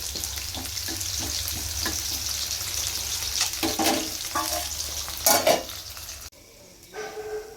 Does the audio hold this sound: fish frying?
yes